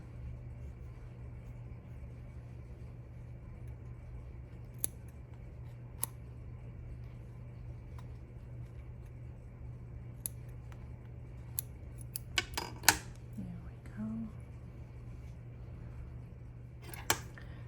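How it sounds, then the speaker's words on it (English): Scissors make sparse, sharp little snips while trimming mink fur from an old fur coat for a teddy bear, faint and irregular over a steady low hum, with a brief cluster of clicks near the end. "First I'm brushing the fur to either side, and now I'm making a little bit of snips."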